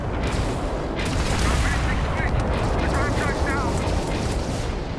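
Automated weapons in a video game fire in a dense, continuous barrage of loud gunfire and booming blasts, with bursts overlapping throughout and voices faintly mixed in.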